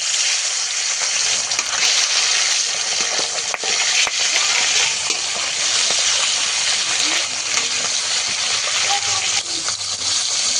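Fish pieces fry steadily in hot oil in a pan, giving a dense, continuous sizzle that runs close and loud throughout, with occasional stirring clatter.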